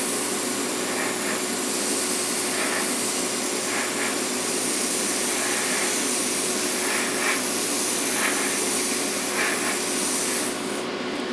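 Zero Paints microfiller primer sprayed in a thin, dry layer, giving a steady, close, even hiss of mist that runs unbroken for about eleven seconds and stops abruptly at the end.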